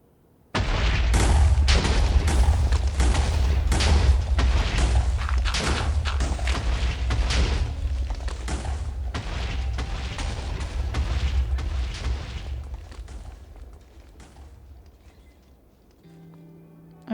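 TNT detonates in Minecraft while netherite is being mined, setting off a long, loud chain of booming blasts and heavy rumble that gradually fades over many seconds.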